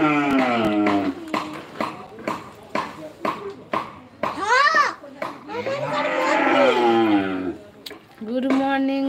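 A cow lows in a few drawn-out moos, mixed in with close conversational talk between people nearby.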